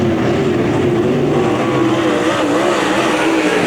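UMP modified race cars roaring down the back straightaway at a speedway, a dense sustained engine drone with shifting pitch from several cars, loud and steady.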